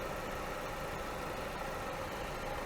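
A warm 2009 Hyundai Elantra engine idles steadily up close, a continuous even rumble with no talk over it.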